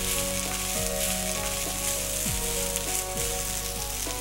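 Fried rice with Schezwan sauce sizzles loudly in a hot pan as it is stirred, a dense continuous frying hiss with scraping sweeps of the spatula, close up and without talk.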